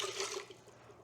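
Half a cup of water runs from a fridge water dispenser for cooking, a short, close splashing pour that fades out within about half a second.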